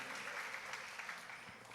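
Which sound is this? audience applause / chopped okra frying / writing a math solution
audience applause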